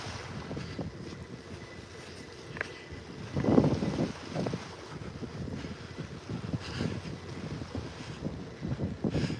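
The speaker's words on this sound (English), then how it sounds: "it's windy here" Gusty wind buffets the microphone outdoors on a beach in North Naples, Florida, rumbling in uneven bursts with a faint wash of surf in the background.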